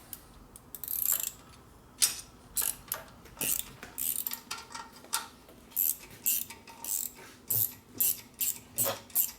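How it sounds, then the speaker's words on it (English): A wrench ratchets on a Harley Ironhead Sportster motor during a 1972 XL rebuild, quick clicking bursts repeating in a steady back-and-forth rhythm, close and fairly quiet, with no voices. "Here's my wrench."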